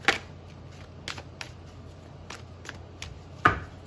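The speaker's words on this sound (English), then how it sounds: "Do one more shuffle." Tarot cards being shuffled during a card reading, a few quiet, scattered riffles and taps with pauses between them, close by in a quiet room with no talking.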